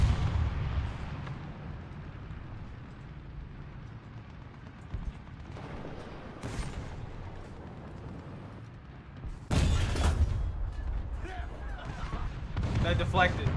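Tank cannon fire in the War Thunder video game, two sharp loud booms standing out over a low rumbling engine bed, with someone talking across parts of the clip.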